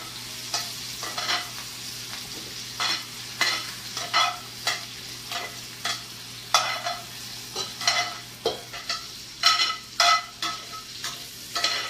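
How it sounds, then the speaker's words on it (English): Vegetables and thyme sautéing in bacon fat in a pan for coq au vin: a steady close sizzle broken by repeated stirring scrapes and shuffles at an irregular rhythm, with no voices. "you don't want to cook these vegetables too much, because they're going to finish cooking in the crock pot"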